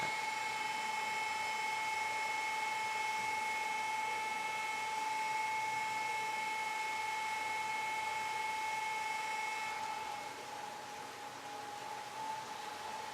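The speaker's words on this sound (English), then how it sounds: "Danilo's holding the hose up so that it aerates the wine as it gets pumped into" A pump pushes wine through a hose held up high to aerate it as it pours into an open vat, giving a steady mechanical whine and hiss that runs evenly throughout and eases slightly near the end, with no talking.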